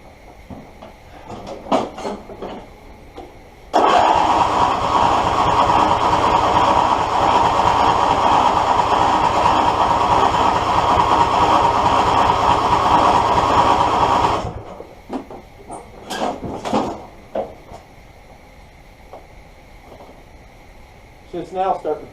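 A Briggs 22HP V-twin engine on a John Deere D140 mower cranks and fires, roaring steadily and loudly for about ten seconds before cutting off, with scattered clanks and shuffling before and after.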